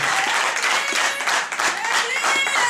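Loud applause from a church congregation gathered to praise Jesus, dense continuous clapping with crowd noise throughout.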